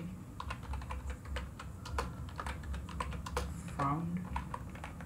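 Someone typing code on a computer keyboard, brisk irregular clicks of keys close by and fairly soft, while a voice talks through the steps over the tapping.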